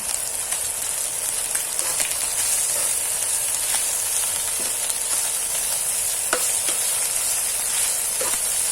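Ginger stir-fried with chicken in a pan, a steady close sizzle with scraping stir strokes and occasional utensil clicks throughout, no talking.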